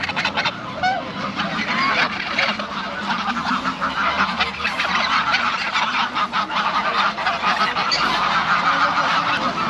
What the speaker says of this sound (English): They're a lot of happy geese